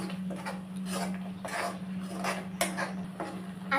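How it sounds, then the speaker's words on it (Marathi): Masala paste for a prawn curry being stirred and sautéed in a hot pan with oil and curry leaves, giving repeated scraping and clinking strokes of a spoon against the pan over a steady low sizzle, close and moderately loud. "आता आपण मसाला परतून घेऊया."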